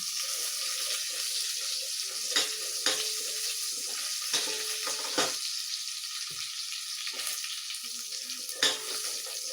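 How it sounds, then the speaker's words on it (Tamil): Garlic fries golden in a hot pan, with a steady crackling sizzle and occasional sharp stirring clinks and scrapes throughout, close up and with no talking. "கோல்டன் ஃப்ரையாக பூண்டை வறுத்துக்கோங்க."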